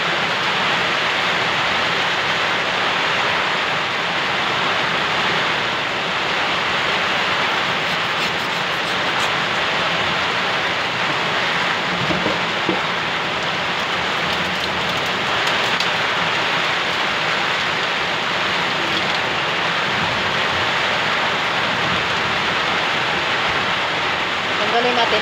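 Rain falls steadily on a rainy afternoon, a dense continuous patter and wash across surfaces that holds at a constant loud level throughout, with faint voices beneath it.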